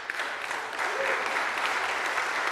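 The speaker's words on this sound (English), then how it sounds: "Round of applause from Melbourne" Audience applause at a Melbourne Knowledge Week event, a moderate, steady patter of clapping from a modest crowd, fairly distant and sustained throughout.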